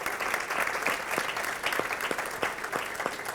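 Audience applause at a children's rights storybook presentation, a moderate crowd clapping steadily throughout, dense and even, with a few louder individual claps standing out.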